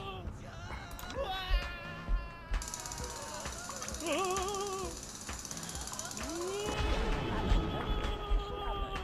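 A cat meows several times in the middle, rising-and-falling cries heard amid busy background noise and a voice talking.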